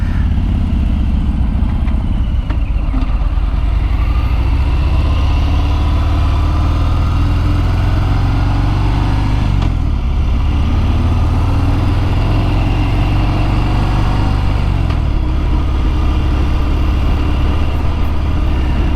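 A 2022 Harley-Davidson Fat Bob 114 motorcycle idling with its quiet stock exhaust, a loud, close, steady low rumble with a few slight revs along the way, no voices.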